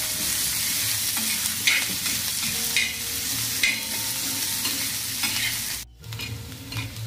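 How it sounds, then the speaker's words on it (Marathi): Chopped onion fries in oil in a pan, giving a loud, steady sizzle with occasional stirring scrapes close by and no talking. "आपल्याला कांदा आहे ना असा मस्त ब्राऊन कलर करून घ्यायचा"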